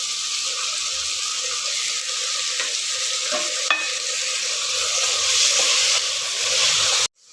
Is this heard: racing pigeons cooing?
no